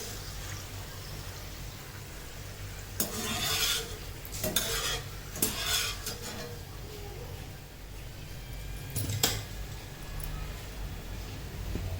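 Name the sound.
frying jaggery kapnya (sweet snack) in oil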